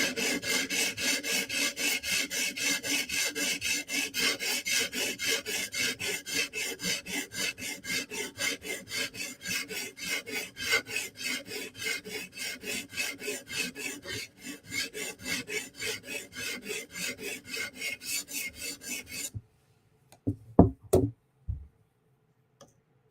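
Steady rasping strokes of a Bestech Tanto knife drawn across a sharpening stone, repeated rhythmically and close for about nineteen seconds, then silence broken by a few sharp knocks or clicks.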